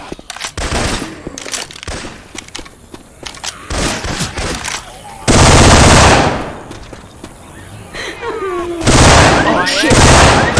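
Gunfire in Left 4 Dead 2 using Syphon Filter weapon sounds, loud bursts of rapid automatic fire and single shots in quick runs, mixed with game noise and voices talking.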